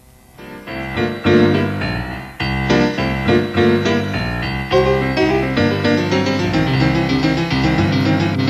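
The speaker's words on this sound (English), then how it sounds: "Take one of our sounds, the piano," A Kurzweil synthesizer's factory-preset piano sound plays a series of clear chords and notes, bright and sustained, building into a steady rhythmic pattern.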